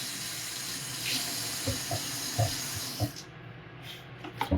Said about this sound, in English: So now, wash my hands.